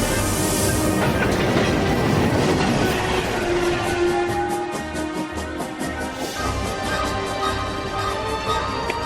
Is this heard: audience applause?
no